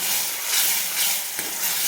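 Ground masala fries and sizzles in a pan while a spoon stirs it, a steady hiss of cooking that stays close and continuous throughout, with no talking over it.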